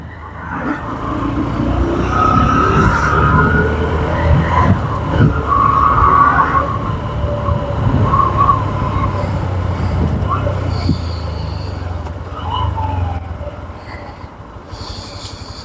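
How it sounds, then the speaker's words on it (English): Road traffic passing around a motorcycle being ridden through town, a continuous whooshing roar of engines and tyres with rising and fading vehicle sounds, moderately loud throughout. "And a lot of traffic."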